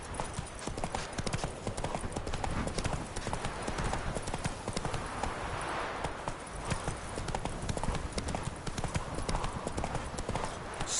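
Roach, a horse in the video game Witcher 3, gallops with rapid, continuous clip-clopping hooves, loud and steady throughout, with a voice speaking briefly over it.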